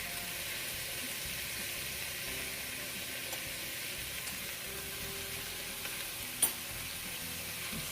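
Minced garlic, about a teaspoon, frying in a pan for a vegan Korean radish soup gives a steady, even sizzle that stays faint and continuous, broken once by a brief sharp tap near the end.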